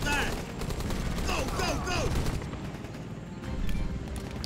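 Rambo The Video Game gunfire: rapid bursts of shots and fusillades crackle continuously at close range, with a louder blast near the end, while someone talks over the action.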